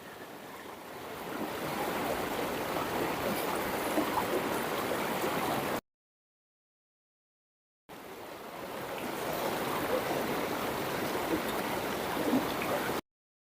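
A river flows steadily through an outdoor eating spot, a continuous broadband wash of water with some wind, loud and close, cutting out briefly before resuming.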